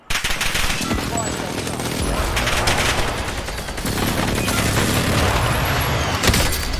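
Continuous gunfire in a Call of Duty Warzone match, with dense rattling bursts and sharp cracks of sniping sounding loud and close throughout, mixed with game noise and occasional voices.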